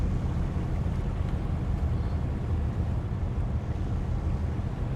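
Boat engine in the Fishing: North Atlantic video game, a steady low rumbling drone with wash and wind-like noise, continuous and fairly loud, no talk.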